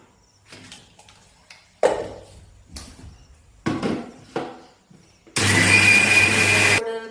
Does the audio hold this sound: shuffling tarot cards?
no